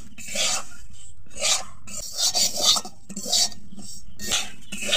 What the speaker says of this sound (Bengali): একদম কম আঁচে রেখে 2 মিনিটের মতো ভেজে নেব। আর অনবরত নেড়ে যেতে হবে